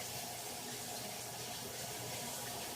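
Running tap water pours steadily into a bowl of white rice being rinsed to wash out the starch, a soft continuous splashing rush that stays fairly quiet for a few seconds with no talking.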